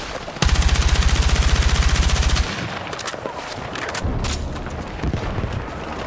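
Rapid hip-fire automatic gunfire in Battlefield 6, a loud, steady burst of evenly spaced shots for about two seconds, then scattered distant battle noise and a few heavier thumps.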